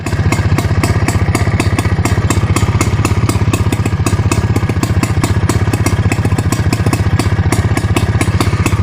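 Motorbike engine running steadily at close range, a loud, rapid, even clattering thump with no break and no talk.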